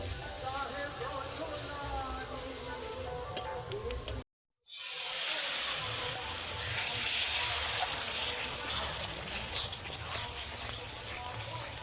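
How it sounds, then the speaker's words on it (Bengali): Spice masala frying in a pan as a little water is added for a soybean vegetarian recipe, giving a steady close sizzle that cuts out briefly, then bursts into a louder hiss and spatter while a person talks. "তারপর সামান্য পরিমাণে জল দিয়ে মশলাটা কষাবো।"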